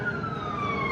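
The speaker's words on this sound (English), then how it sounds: "Let me wait for this, whatever this is, an ambulance or something to ride by." An ambulance siren wails steadily as it passes along a street, its pitch sliding slowly downward, continuous and fairly close over faint road noise.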